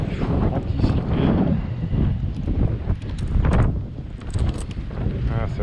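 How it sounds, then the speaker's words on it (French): Gusty wind buffets an outdoor apiary in March, rumbling against the microphone in uneven surges that rise and fall throughout, with faint activity underneath. "Ah, ça va être chiant ce vent"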